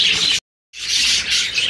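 Australian budgerigars chirp busily in a breeding colony with clay nest pots, bright overlapping tweets close by, broken by a brief silent gap before the chatter resumes.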